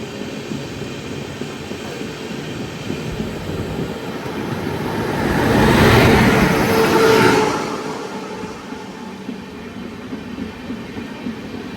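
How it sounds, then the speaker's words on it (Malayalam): A Karwar Express passenger train run by South Western Railway rumbles past on the rails in the Sakleshpur Ghats, swelling to a loud roar midway and then fading back to a steady distant hum. "സൗത്ത് വെസ്റ്റേൺ റെയിൽവേ ഓപ്പറേറ്റ് ചെയ്യുന്നൊരു കിടിലം വണ്ടിയാണ് ഈ കാണുന്നത്."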